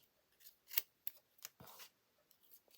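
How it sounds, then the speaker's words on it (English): Scissors cut out paper words for a handmade vintage typewriter card, giving several short, crisp snips at uneven intervals, close and fairly quiet, with no talking. "we'll just cut our words out"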